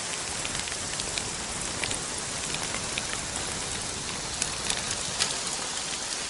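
Artificial rain falling in a steady, dense patter on surfaces, a close, even hiss of drops with scattered brighter splashes throughout and no voices.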